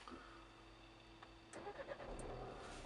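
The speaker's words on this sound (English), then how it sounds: "to start the engine, we put our foot on the clutch" A Nissan Qashqai engine turns over via the start-stop button and settles into a steady idle, with a faint chime and hum before the crank kicks in partway through; quiet and close, no talking.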